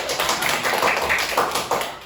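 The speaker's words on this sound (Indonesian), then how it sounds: "Tepuk tangan." A class claps together after a group presentation, a burst of many hands in a dense patter that swells and rolls on close by without any voices.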